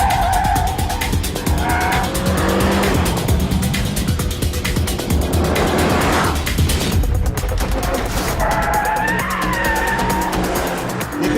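A Renault Megane 265 hot hatch driven hard on a race track, engine revving and shifting while tyres squeal and skid through corners, loud and close throughout.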